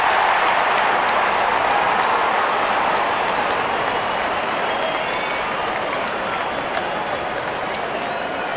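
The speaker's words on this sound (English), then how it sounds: "Openers walking in and the crowd cheering in anticipation." A stadium crowd in a cricket video game, India against Ireland, keeps up a steady, loud cheering roar as the openers walk out, a dense wash of voices and clapping with no pauses.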